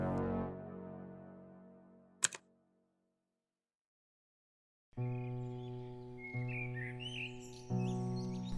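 Small birds chirp in late spring in New York, quick, thin, high tweets that come in scattered bursts under steady music, following a short rattling tap and a stretch of near silence.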